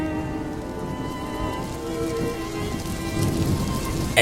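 Rain patters steadily on a surface nearby, a soft continuous hiss with scattered drops, swelling slightly toward the end.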